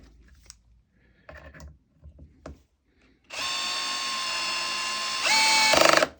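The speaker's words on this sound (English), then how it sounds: "Now we'll go to 10 on the Makita. Okay, and then move the Bosch up to 10." Makita and Bosch 12V multi-chuck drill drivers driving screws with the clutch set to 10: a few faint knocks, then a loud steady motor whine that rises in pitch near the end and stops abruptly.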